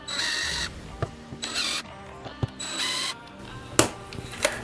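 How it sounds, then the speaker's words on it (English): Screws driven into a DIY gym storage unit with a power driver, several short whirring bursts with clicks and thumps in between, close and fairly loud, no talking. "just drive the screws in just a tiny bit more"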